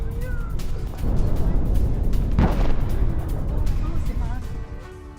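Rocket and missile explosions shake a residential building in Haifa, Israel, heard as a heavy low rumble with a sharp blast near the middle. People talk over the sound.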